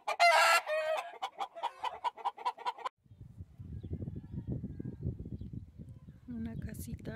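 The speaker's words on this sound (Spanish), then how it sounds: "Las gallinas ponedoras y los gallos escandalosos." Farm roosters and laying hens in the Chihuahua sierra cluck and call loudly and close for about three seconds, then a low rumbling noise takes over before a brief cackle at the end.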